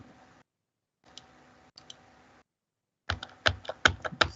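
A computer keyboard clicks quietly in a few faint, sparse taps, then a brisk burst of louder, closely spaced keystrokes near the end.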